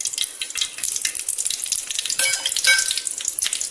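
Cinnamon and cloves fry in a couple of teaspoons of hot oil in a kadai, giving a steady, close sizzle and crackle that runs throughout with no talking over it.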